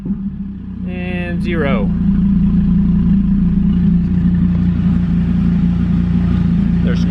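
A Gen 5 Dodge Viper engine with a zero oil pressure warning, heard as a loud, steady idle under close talk, with a brief rev near the start before it settles back into a continuous low drone.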